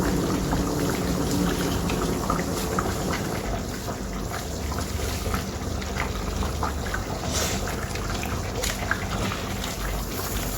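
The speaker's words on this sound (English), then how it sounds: "And leave it to boil for some minutes." Oha soup bubbling in a pot on the stove, a steady close, busy simmer of popping and gurgling liquid that continues throughout with no talking.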